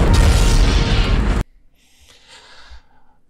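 A grenade explosion in the film Terminator bursts loud and broadband, holds for about a second and a half, then cuts off sharply into faint rumbling debris.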